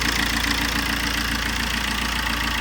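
A car engine idles steadily with a worn fuel injector, giving a continuous close hum with a slight uneven knock and shake running through it, no voices.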